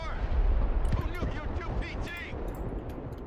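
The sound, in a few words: artillery fire and explosions in the video game Broken Arrow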